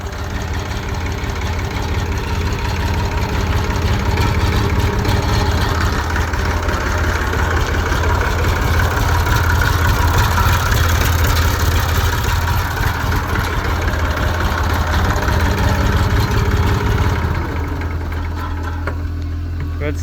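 A Massey Ferguson 235 tractor engine runs steadily at idle after a jump start and fresh fuel, with a loud, continuous low rumble and mechanical clatter close by that eases slightly near the end.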